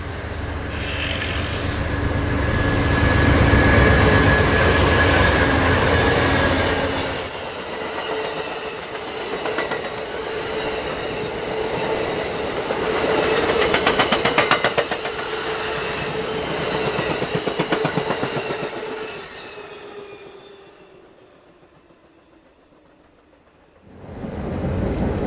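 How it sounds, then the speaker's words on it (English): A train runs along the shores of San Pablo Bay, a loud, steady rumble with clickety-clack passing close by for about twenty seconds before fading away, then swelling briefly again at the end. "Somewhere out along the shores of San Pablo Bay, my friend Marty catches the train as it runs by"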